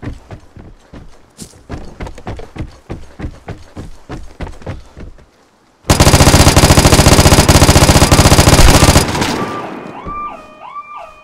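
An M249 machine gun in the video game Vigor fires a loud, continuous burst for about three seconds, preceded by rhythmic footsteps and followed by electronic interface tones.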